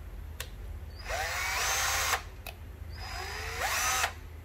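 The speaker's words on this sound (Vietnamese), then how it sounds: "Đây một bộ nữa là một con khoan này ha, khoan Makita ha, khoan Makita." A Makita cordless three-function hammer drill with a 10 mm chuck spins up twice in short whirring bursts of about a second each. Each burst is a close, fairly loud motor whine with a click at start and stop.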